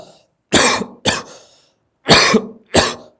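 Four loud, close coughs in two pairs, separated by short pauses.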